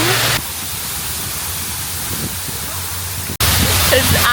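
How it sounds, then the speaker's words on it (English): Water from a waterfall on Castle Hill in Nice rushes in a loud, steady broadband roar filling most of the moment, bracketed by brief cuts to other background sound. "Made it to one of the waterfalls."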